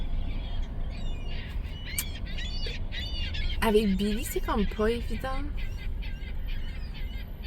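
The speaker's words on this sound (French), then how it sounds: "Je sais pas si vous m'entendez avec une gang de goélands qui est en arrière" A flock of gulls squeals and calls behind someone speaking outdoors, with sharp cries clustered in the middle and scattered fainter calls under her voice.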